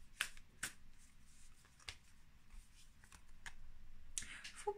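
Tarot cards shuffled and drawn by hand, a few crisp riffling snaps and slaps spread over several seconds against a quiet room background, with no talking.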